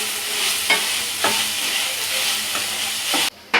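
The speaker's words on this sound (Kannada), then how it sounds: "ಇವಾಗ ಇದು ಎಣ್ಣೆಲೆ ತರಕಾರಿ ಎಲ್ಲ ಇದು ಫ್ರೈ ಆಗಿದೆ" Mixed vegetables fry in oil for paneer-stuffed snacks, a close, continuous sizzle broken by several spatula scrapes and stirs, cutting off abruptly before a final clatter.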